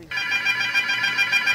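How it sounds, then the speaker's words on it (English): A telephone rings nonstop, one steady electronic warble that starts abruptly and stays loud and even throughout. "The phone just constantly rings."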